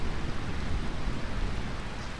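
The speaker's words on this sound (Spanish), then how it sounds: "Qué lluvia tan maravillosa." Rain falls steadily in the video game Final Fantasy IX at Burmecia Castle, a constant dense hiss with a low rumbling body and no voices over it.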